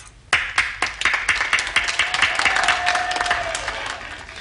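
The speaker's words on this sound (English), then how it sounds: "So let's give them a big round of applause." An audience applauds entertainment staff at a holiday show, starting with sharp scattered claps that quickly swell into dense, steady clapping from a crowd with light cheering.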